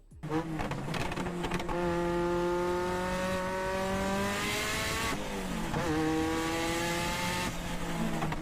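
A high-revving Ferrari F40 twin-turbo engine screams close by, pitch climbing through gears with sharp shifts and brief drops, loud and unbroken throughout.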